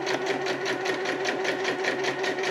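Sewing machine stitching camouflage fabric for a winter hammock tarp, a steady rapid mechanical chatter running continuously at an even, moderate pace, close and clear.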